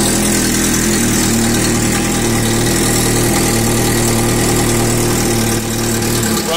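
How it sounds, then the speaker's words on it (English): A 2001 Yamaha R1 motorcycle engine idles steadily and loudly up close, an even, throbbing hum that holds without revving for several seconds. "Idles just fine."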